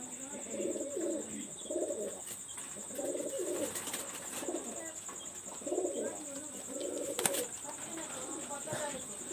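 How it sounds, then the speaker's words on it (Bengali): Pigeons coo steadily in a loft of high-flyer breeds such as teddy and Rampuri birds, soft repeated rolling calls close by with a few chirps and a steady high hum, while a person talks at times. "আমি একটা ফিমেল কবুতর দেখাচ্ছি"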